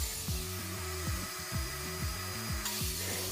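Power saw in a home workshop cutting wooden pieces for a photo frame, a steady mechanical whine with repeated rising and falling strokes as each cut is made, close and continuous for several seconds.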